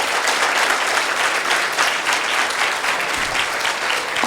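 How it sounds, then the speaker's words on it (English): A temple audience at a discourse on Sita Matha claps for Swami, sustained full applause that stays loud and even from start to finish. "Give a big round of applause to Swami."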